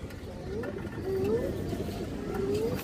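A pigeon coos a few soft, rising notes against a background of shuffling and faint voices, the calls fairly quiet and spaced apart.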